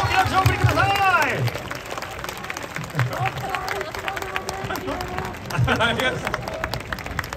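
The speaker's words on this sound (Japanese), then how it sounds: "大きな拍手を送りください" A crowd at Tokyo Dome claps for a guest during a Giants–Orix interleague baseball event, the applause mixed under busy stadium noise, music-like tones and a presenter talking over it throughout.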